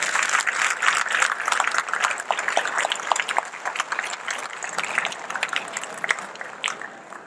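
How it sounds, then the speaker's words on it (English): An audience at an Indian Independence Day celebration applauds performers with sustained, dense clapping that fills the room at steady loudness throughout. "can you please have a big round of applause for all our performers today?"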